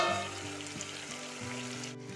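Steady, close sizzle of pepper chicken frying in a pan, with a few scraping stirs breaking through the constant hiss.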